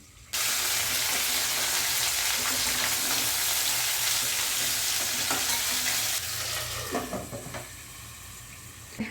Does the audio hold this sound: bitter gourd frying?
yes